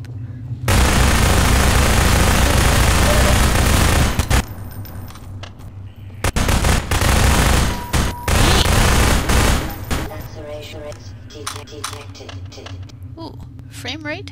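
Sustained automatic gunfire from an unlimited-ammo weapon in Half-Life 2, loud continuous bursts with brief gaps, then trailing off into scattered shots and game noise as a voice talks over it.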